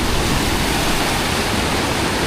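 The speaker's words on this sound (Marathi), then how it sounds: "इकडे प्रणील, अर्णव, दादा, हे बघा इकडे हे धबधबो" A monsoon waterfall near Kondeshwar temple roars in a dense, constant wash of falling water, loud and close, with no break or other sound over it.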